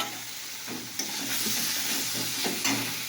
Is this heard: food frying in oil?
yes